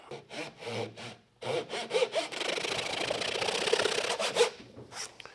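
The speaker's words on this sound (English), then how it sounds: "So let's say we're going to cut a 45. Put our saw in there." A hand saw cuts a 45 degree angle while guided by a magnetic crosscut sled. A few short, light strokes start the cut, then steady back-and-forth rasping strokes follow close by, and quiet taps come at the end.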